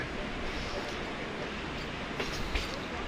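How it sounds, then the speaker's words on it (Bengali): A continuous rumbling train runs slowly along the tracks near Sevoke, a dense steady roar with faint rattling, heard from inside or close by. "ট্রেন কিন্তু খুব একটা গতিতে নেই, বাট ওর নিজস্ব গতিতে চলছে"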